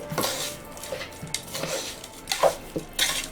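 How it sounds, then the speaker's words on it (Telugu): A spoon stirs jaggery, sugar and grated coconut into cooked chana dal in a pot, giving close, irregular clinks and scrapes against the vessel with quiet gaps between strokes and no talking. "బెల్లం, పంచదార, కొబ్బరి తురుము ఈ శనగపప్పులో వేసి ఇలా కలిపి"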